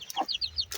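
Hens in a backyard farm plot give a few quick, short clucks and squawks in a rapid broken sequence, close and clear.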